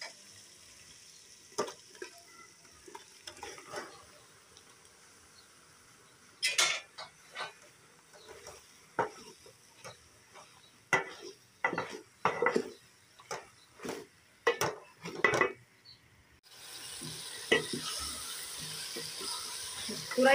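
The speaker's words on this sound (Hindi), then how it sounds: "अब हम इसमें तुरई डालकर भून लेंगे" Ridge gourd (turai) stirred and fried in a pan with spices: quiet scattered scrapes and clinks of a spoon against the pan, which settle into a louder steady sizzle at the end.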